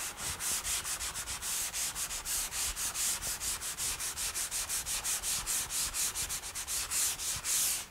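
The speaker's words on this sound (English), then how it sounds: "I would use a sanding sponge" Rapid, rhythmic back-and-forth scraping of a sanding sponge on a surface during detailed finishing work, steady and close, around four strokes per second with no talking.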